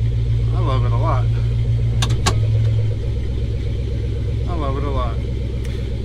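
A pickup truck with a steady mid-pitched engine rumble runs throughout while it shifts from park and moves forward, then backs up, with a brief clunk near the middle and a voice talking over it.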